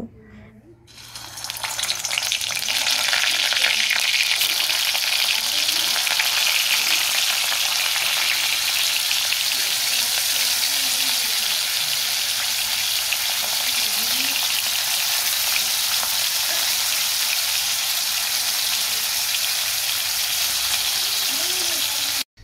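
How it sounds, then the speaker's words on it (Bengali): Pointed gourd (potol) frying in oil in a wok gives a loud, continuous sizzle. The crackle swells within the first two seconds and then holds steady and close for the rest of the clip. "তারপর কড়াইয়ে পটলগুলোকে ভালো করে ভেজে নেব"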